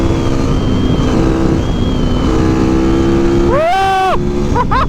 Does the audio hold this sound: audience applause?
no